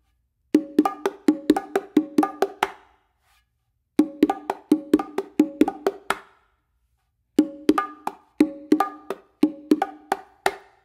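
Bongos play a fast pattern of sharp slaps, including a closed slap on the macho drum, and muffled tones in three separate bursts, each a couple of seconds long, with short silences between them.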